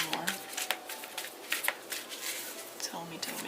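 Tarot cards are shuffled by hand in quick riffling bursts and soft slides during a Scorpio singles reading, with a voice speaking over the shuffling.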